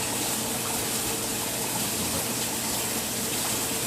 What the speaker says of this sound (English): just the action of the bubbles coming up on this side really helps get that circular motion going in the tank